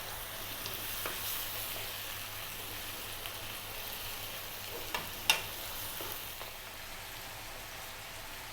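Cod for a Chinese whole crispy fish is stir-fried in a hot pan after a splash of water is added. A faint, steady sizzle carries a few soft scrapes and clicks, with no voices.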